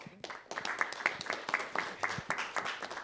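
Applause at a city council meeting, moderately faint and distant, a steady run of overlapping claps from a small crowd in a hall, with no talking over it.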